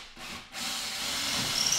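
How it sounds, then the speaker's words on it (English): Short bursts of a power drill pre-drilling holes in wood for toggle bolts, a brief start and stop, then a sustained rising whir, close by. "I'm just gonna pre-drill the holes for the toggle bolts."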